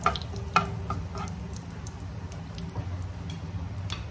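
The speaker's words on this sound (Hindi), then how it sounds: "साथ ही इसमें ऐड करेंगे 1/2 टीस्पून जीरा और 2 तेज पत्ता। जीरे को हल्के सा ब्राउन होने देंगे।" Half a teaspoon of cumin seeds and two bay leaves sizzling in hot oil for an egg curry, a steady soft frying hiss with a few sharp crackles and pops near the start, no talking.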